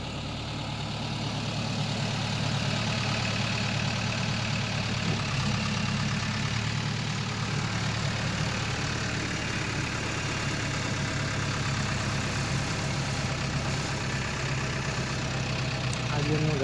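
A 2012 JCB backhoe loader's diesel engine idles steadily at close range, a continuous even rumble that holds unchanged throughout with no talking.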